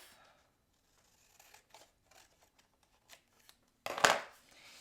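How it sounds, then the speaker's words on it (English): Quiet snips and rustles of paper, followed by one louder, sharper cut near the end, close by in an otherwise quiet room. "Use your scissors to cut off."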